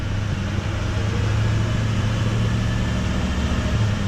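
An L5P Duramax diesel truck runs at full throttle on a dyno through the gears, a loud, steady, close engine drone with a deep rumble that holds without a break.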